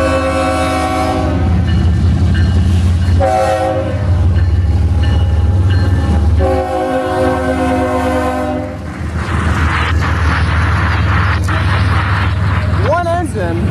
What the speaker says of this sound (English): we're going to be getting a CSX autorack train